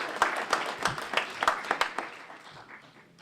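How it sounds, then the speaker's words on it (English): A small audience at a maritime heritage society annual meeting claps in a brief burst, the separate hand claps sharp and distinct at first, then thinning out and fading. "let's give a big hand to"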